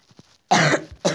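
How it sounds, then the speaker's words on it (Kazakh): Two harsh, broadband coughs close to the listener, a longer burst followed by a shorter one, from a person lying in bed at night, with quiet stirring just before. "Жөтел ұйықтатпайтын болды."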